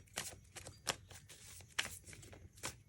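Tarot cards drawn from a deck, quiet crisp flicks and slides of card stock in a few short bursts, close and faint, with no speech.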